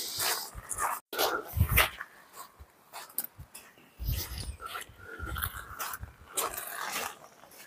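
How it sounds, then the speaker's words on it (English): A dog on a North Norfolk beach near an abandoned railway makes rough, irregular vocal bursts and snuffling sounds close by, uneven in loudness, with breathing and movement between them. "She's ready to bark at everyone again"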